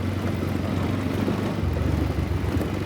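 A motorcycle rides over a rough, rocky road, its engine a low steady drone with uneven rumbling and a shift in tone partway through, moderately loud and without voices.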